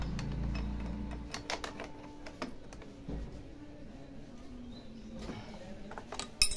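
Two metal wrenches, one small and one large, clink and click against an overturned Usha sewing machine during repair, a string of light irregular taps heard close up over a soft background rumble.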